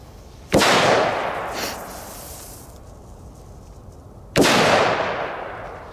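Two sharp firework bangs go off on frozen ice several seconds apart, each a loud crack with a hissing, decaying tail in open air.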